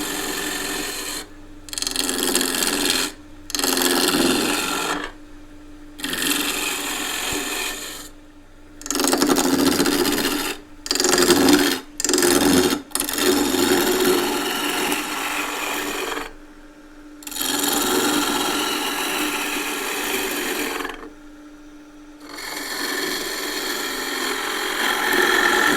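A roughing gouge turns square-section wood to round on a wood lathe, giving loud, rough, scraping and rasping cuts in repeated passes broken by short silent gaps, close up with no talk.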